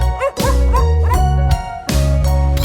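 Cartoon dog yips and barks within a bright French children's song about buying a white dog at the market, short repeated woofs over steady music.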